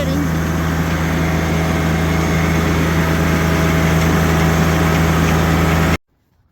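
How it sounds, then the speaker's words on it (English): Tractor engine running steadily during a greenhouse tunnel clean-out, a loud continuous idle-like drone with a low hum that cuts off abruptly at the end. "I hope you can hear me over the tractor."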